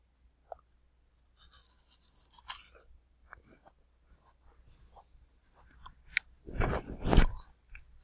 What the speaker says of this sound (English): I'm going to crunch into a piece of watermelon.